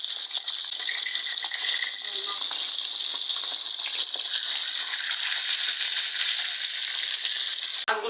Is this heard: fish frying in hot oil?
yes